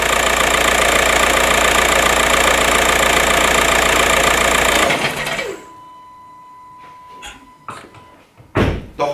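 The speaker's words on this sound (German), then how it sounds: "Also das ZMS, was hier extrem noch nachknackt." A VW Passat engine runs loudly and steadily, then is switched off; in the quiet that follows come a few sharp, separate knocks from the dual-mass flywheel.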